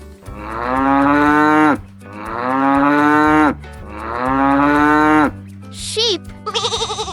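A cow moos three long, loud, drawn-out times, each low call held for well over a second, followed by a few brief higher sounds.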